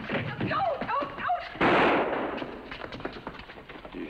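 A single gunshot rings out in a TV western, sharp and loud, directly after dramatic dialogue, with voices continuing around it.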